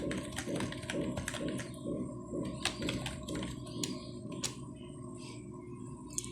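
Typing on a computer keyboard, a quick irregular run of close, crisp key clicks with short pauses, entering a search term into a browser on a PC.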